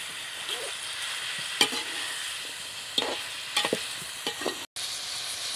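Chicken stir-frying for desi-style Chinese rice sizzles steadily in a pan, with a few sharp scrapes and knocks of a spatula breaking through the close, continuous hiss and one brief dropout.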